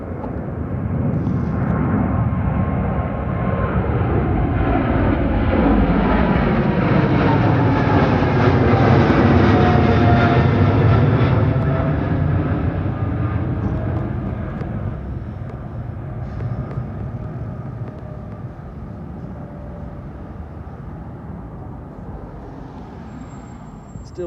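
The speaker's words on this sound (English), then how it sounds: "returning home to Taipei as BR7E, operated by EVA Air, a Boeing 777-300ER" An EVA Air Boeing 777-300ER at Heathrow, heard as a powerful, steady jet engine roar that swells as the aircraft passes close by and then slowly fades as it moves away. No one speaks.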